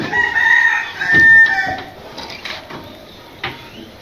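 Chickens and roosters bought at the Mirzapur market for a farm, heard up close: loud crowing and clucking in the first half, then quieter scattered clucks.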